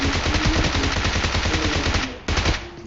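Dense, rapid gunfire from pistols and shotguns in the PUBG Mobile video game, a loud continuous close-range volley of overlapping shots with one brief gap before the firing resumes.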